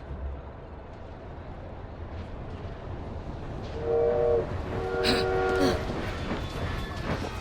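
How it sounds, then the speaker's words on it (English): A train arrives in the video game Assassin's Creed Syndicate: a steady low rumble builds, and drawn-out tonal horn or whistle blasts sound midway over the rolling noise. "Train's coming."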